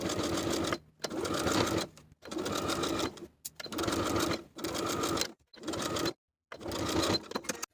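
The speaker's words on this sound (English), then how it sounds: "Edge stitch along that bottom waistband seam all the way around, or stitch in the ditch of the main seam" A sewing machine edge-stitches along the bottom waistband seam of a pleated skirt, running in about seven quick, even bursts of rapid needle chatter separated by short silent pauses.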